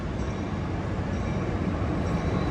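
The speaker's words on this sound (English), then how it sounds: "Super liner car right there." An Amtrak San Joaquin train with a Superliner car rolls through Oakland's Jack London Square station, a steady, faint rumble of wheels on rail that continues evenly throughout.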